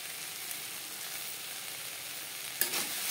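Yardlong beans frying with grated coconut in a pan give a steady, soft sizzle, broken near the end by a brief scrape of stirring before the hiss settles again.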